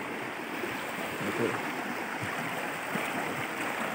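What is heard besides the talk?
upper river stream flowing over rocks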